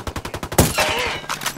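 Gunfire in the Ghost Recon Wildlands co-op shooter, a fast rhythmic string of shots followed by a heavier blast and some rumbling, loud and close.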